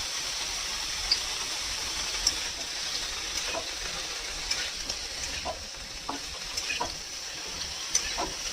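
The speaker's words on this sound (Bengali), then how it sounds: "এইটা কিন্তু হাই ফ্লেমে ভাজতে হবে।" Chopped ginger, garlic and chili stir-frying on high flame, a continuous loud sizzle with scattered sharp crackles and pops throughout, no voices.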